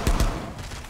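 Ela's shotgun in Rainbow Six fires two quick, loud blasts in close succession, followed by a fading echo tail.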